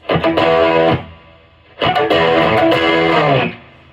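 Two heavily distorted electric guitar chords from the opening of a song ring out loud and sustained, each held about a second before cutting off, with a short pause between them.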